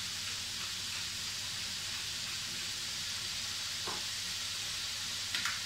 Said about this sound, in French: Mettre dans notre casserole et colorer toute notre viande